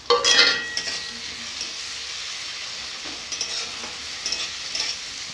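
Onion, ginger paste and chopped tomato fry in a pan with a soft, steady sizzle, punctuated by a few close scrapes and clinks of stirring, with no voices.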